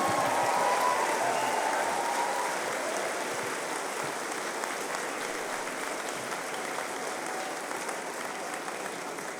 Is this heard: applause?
yes